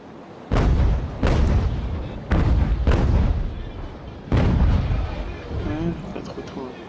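Ship cannons fire in a naval battle in Ultimate General: American Revolution, five heavy booming blasts at irregular intervals, each with a rumbling tail, while someone talks.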